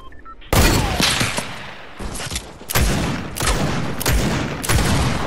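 Gunfire in the video game Fortnite, loud close bursts of rapid automatic shots in several clusters after a short quiet start.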